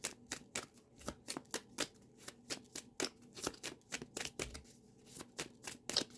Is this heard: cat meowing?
no